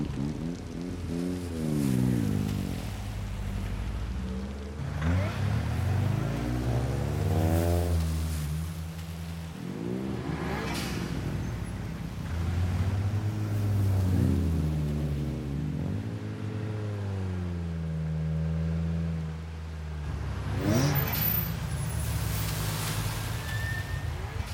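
Turbocharged street cars in an Initial D night race, engines revving with rising and falling pitch sweeps as they pass and accelerate, loud and continuous under wind-like rush.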